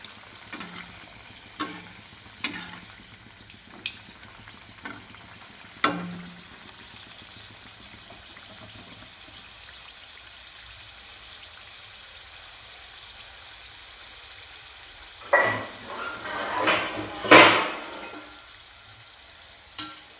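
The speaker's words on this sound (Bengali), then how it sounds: "এবারে এক এক করে ভেজে নেব।" Samosas go one at a time into hot oil for deep frying. A few light clinks come first, then a quiet stretch, then loud bursts of bubbling sizzle near the end as pieces hit the oil.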